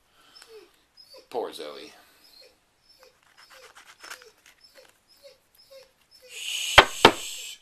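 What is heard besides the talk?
dog whimpering after seizures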